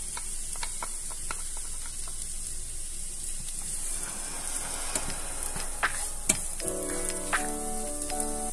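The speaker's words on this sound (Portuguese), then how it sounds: "Eu vou dourar a cebola." Onion browning in a frying pan gives a steady, soft hiss of sizzling oil throughout, with scattered small clicks and scrapes from the pan and utensil, and no voices.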